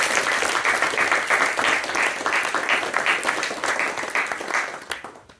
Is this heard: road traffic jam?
no